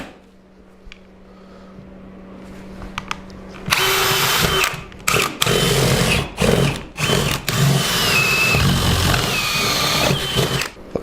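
A loud power drill with a 3/4 inch paddle bit whirs into wood in repeated bursts with brief pauses, after a quieter low hum at the start.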